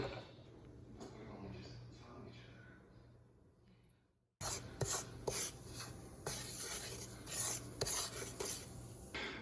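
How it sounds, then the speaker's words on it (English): A spoon scrapes and rubs through a roux of flour and bacon grease in a pot, a steady close rasping texture that fades, cuts out briefly, then resumes louder with sharper scraping strokes. "Just stirring the roux around."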